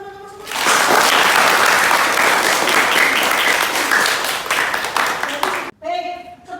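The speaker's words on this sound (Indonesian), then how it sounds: "tepuk tangan buat teman-teman semua" Sustained applause from a group of students in a classroom teaching session, loud and continuous clapping for about five seconds before it cuts off, followed by a brief voice.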